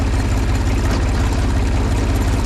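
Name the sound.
3-cylinder Kubota diesel engine running on pellet delivery truck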